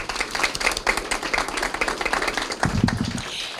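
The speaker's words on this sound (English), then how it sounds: "Please join me in giving them another well-deserved round of applause." Council chamber audience applauding during a city council meeting presentation, a brief spell of fairly close, uneven clapping from a modest crowd, with a slight swell near the end.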